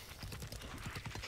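Horse hooves in Breath of the Wild: a steady, fast clip-clop of galloping over a continuous wash of noise, quiet overall.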